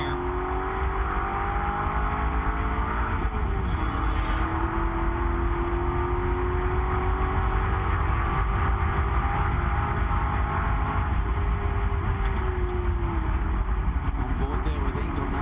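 A touring-class race car at the SCCA Runoffs, heard onboard: the engine whines loudly and continuously, rising and falling with throttle and shifts, while a commentator talks over it.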